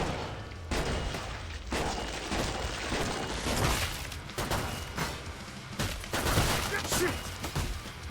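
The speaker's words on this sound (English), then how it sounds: "Let's try to nail bomb" Nail bomb blasts in Killing Floor 2, heavy booming bursts and crackling debris layered over chaotic gunfire and game noise, with a player's voice faintly underneath.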